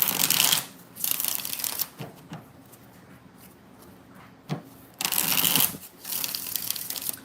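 Tarot cards are riffle-shuffled close up, two long bursts of crisp fluttering separated by a quieter stretch of soft handling and a few taps, with no voices over them.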